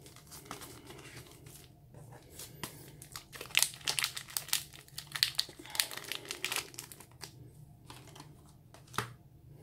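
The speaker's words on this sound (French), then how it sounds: "on va s'ouvrir ces 5 boosters." Dragon Ball Super card booster packs from the Cross Worlds set being opened, giving crisp, irregular crinkling and tearing of foil wrappers close by, with louder bursts in the middle and no talk.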